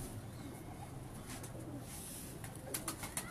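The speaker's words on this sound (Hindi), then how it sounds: "उनके बकौल ये मज वाला कबूतर है" Pigeons coo softly and distantly in a quiet setting, a few low throaty calls with some faint chirps near the end.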